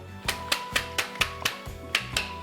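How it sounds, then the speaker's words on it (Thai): A hand-operated blender's plastic container is tapped down to loosen a dipping sauce inside, giving a steady series of sharp, close knocks about twice per second, with no talking. "เอาเขาเคาะลงไปก่อนนะครับ"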